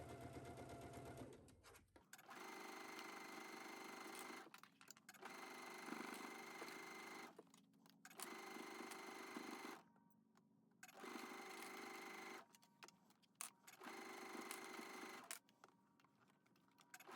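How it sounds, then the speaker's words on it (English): A home sewing machine stitches the sleeves of a Simplicity S9388 shacket at a 5/8 seam allowance, running in several steady whirring bursts separated by short pauses, loud and close with no talking. "So we're going to take this to our sewing machine at 5/8."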